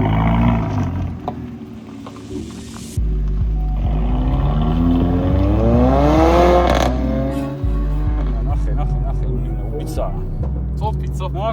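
A Mercedes A45 AMG all-wheel-drive compact hatchback revving hard through corners, its engine note climbing and falling in loud sweeps with gear changes, heard from inside the car with a voice speaking over it.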